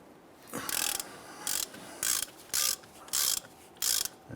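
A half-inch drive ratchet is worked on the upper ball joint bolts of a 1999–2004 Jeep Grand Cherokee, giving six short bursts of rapid clicking, each about a third of a second long, close up and alone.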